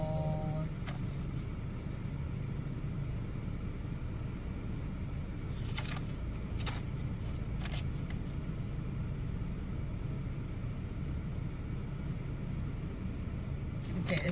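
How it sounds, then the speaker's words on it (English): A car engine idles steadily while warming up, a continuous low rumble that holds at an even level throughout, with a few faint brief ticks above it and no talking. "I'm sitting in the car letting it warm up"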